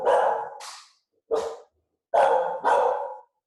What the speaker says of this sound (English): you got to hear Rocket Dog being his protective self